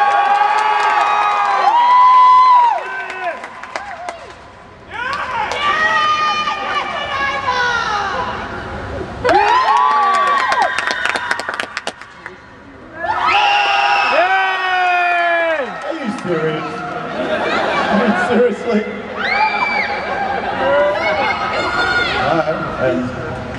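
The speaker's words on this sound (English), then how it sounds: "I get a round of applause for who you think should win" Audience at Armageddon Sydney 2011 clapping and cheering to vote for contestants, several bursts of loud cheering and shouting separated by brief lulls, with children's voices prominent among the crowd.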